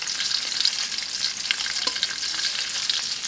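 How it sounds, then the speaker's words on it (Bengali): Pangas fish pieces frying in a pan of hot oil, a dense continuous crackle and sizzle with sharp pops, close and loud, with no voices. "আমি একে একে সব কটা মাছ উল্টে দেব অপর পিসটা ভাজা হওয়ার জন্য।"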